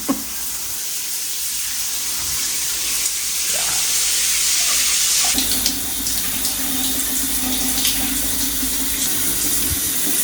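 Shower water runs steadily in a home bathroom as a constant hiss that grows slightly fuller partway through, with no voices over it.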